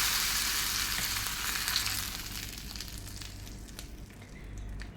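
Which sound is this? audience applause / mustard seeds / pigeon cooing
mustard seeds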